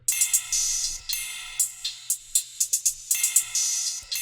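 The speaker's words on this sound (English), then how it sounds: "I just have a generic hi-hat" Generic hi-hat in a typical pattern for a dark trap-style beat, crisp bright ticks and short bursts repeating in a quick uneven rhythm over a faint low hum, close and clean with no voices.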